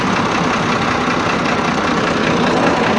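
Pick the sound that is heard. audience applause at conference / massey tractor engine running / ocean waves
massey tractor engine running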